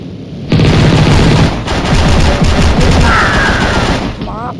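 Loud rapid automatic gunfire bursts rattle in a head-to-head video game match, close and continuous for several seconds, with a brief electronic chirp near the end.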